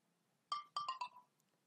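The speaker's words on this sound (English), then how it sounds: "this one is a notification that we have got when we place the soil moisture sensor in a dry pot" A smartphone notification chime set off by an Arduino soil moisture sensor placed in a dry pot, a short quiet sequence of four bright tones against near silence.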